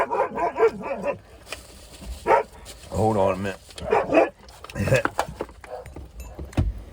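A dog barks several times nearby, the barks mixed in with a person speaking briefly.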